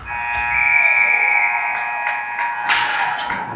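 A loud, sustained electronic horn sounds at the end of a junior hockey game between Navy and the Jr Black Knights, a steady multi-tone blare over rink noise, with a sharp body-check thud against the boards near the end.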